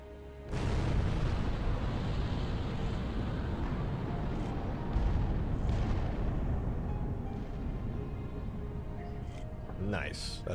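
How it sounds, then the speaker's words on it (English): A nuclear blast from a nuke launcher in the Halo 3 video game: a sudden heavy boom followed by a long, dense roaring rumble that slowly fades, loud and alone, with a few small clicks near the end. "I really love just watching nuclear bombs explode"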